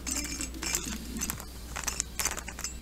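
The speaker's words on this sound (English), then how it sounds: "The spring noise is just caused by the friction of the screw head and the spring." Rubik's cube spring squeaking as the screw head rubs against the spring while the cube turns: faint, dry scratchy creaks in short bursts close by, with no voices.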